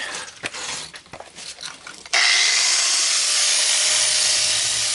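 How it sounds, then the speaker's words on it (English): An angle grinder rounds off the corners of welded steel crucible tongs, starting with a few scraping contacts and then settling into a loud, continuous high-pitched grind close by. "I just want to round off these corners a little bit with the grinder"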